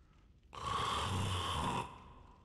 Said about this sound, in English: he snores really, really awkwardly, like he's got throat cancer or something